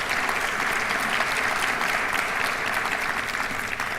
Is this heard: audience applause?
yes